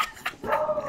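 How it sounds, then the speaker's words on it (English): A few close dogs bark in short, sharp yips, with quick bursts spread across under a second. "my dogs are losing it"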